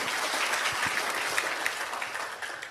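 Audience at a TIENS business presentation breaks into loud, dense applause, many hands clapping continuously and evenly from start to finish with no break.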